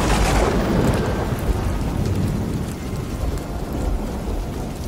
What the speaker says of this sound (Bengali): আর শুধু ঝড় বৃষ্টির মধ্যে বজ্রপাতের তীব্র শব্দ শোনা যাচ্ছিল